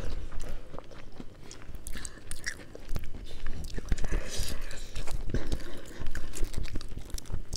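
Close-up crunchy bites and chewing of crispy fried tauhu bergedil stuffed with chicken, repeated crackly crunches with soft murmured talk in between.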